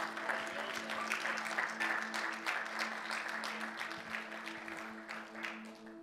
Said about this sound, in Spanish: Un aplauso bien fuerte a nuestro Dios